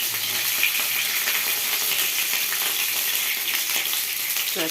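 Pointed gourds (potol) frying in hot oil, a steady bright hiss and crackle of sizzling that fills the whole stretch evenly, close and fairly loud with no talking.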